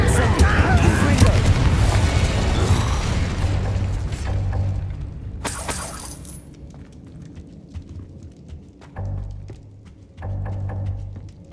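A fire spell in the Hogwarts Legacy video game bursts into a loud rumbling explosion that rolls and fades over several seconds, followed by a sharp crack and smaller pops and thuds, with game voices over parts of it.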